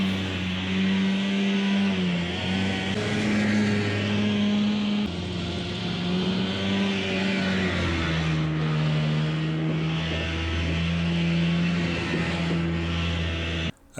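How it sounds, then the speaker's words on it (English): A White Road Xpeditor truck parked since 1996 revs its engine while spinning celebratory donuts, the pitch rising and falling in long sustained swells, loud and close, before cutting off abruptly at the end. "Time for some celebratory donuts."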